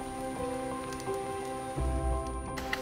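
Rain pattering steadily on the forest canopy and ground of a New Zealand rainforest along the Milford Track, a dense continuous hiss of drops close around, with a heavier burst near the end.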